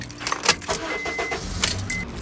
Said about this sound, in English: Today I'm gonna turn on the car.